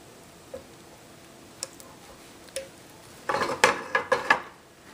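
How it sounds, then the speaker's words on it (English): Butter being cut into slices in a pan with a utensil: a few sparse, light clicks early, then a denser burst of scraping, tapping metal contacts toward the end, close and fairly quiet. "we're just gonna melt the butter here. I'm just gonna cut it in slices."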